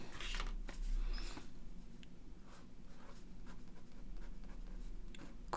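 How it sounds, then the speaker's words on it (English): Steady scratchy pen strokes on paper as ink lettering is written beside an ink-and-watercolor coffee mug drawing, close and continuous with a brief louder burst near the start. "I will just write here."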